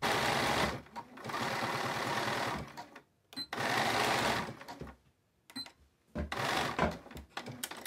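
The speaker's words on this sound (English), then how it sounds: "I'm going to sew this tulle on right around the edge here, and then I'm going to cut off the additional bulk and zigzag stitch it on" A sewing machine zigzag-stitching tulle onto a T-shirt runs in close, loud bursts of rapid whirring, with short pauses and a couple of clicks between runs.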